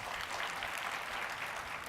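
Applause from a conference audience at a no-kill animal shelter keynote, honoring a former nurse; a steady, dense wash of clapping throughout, fairly quiet and without talk.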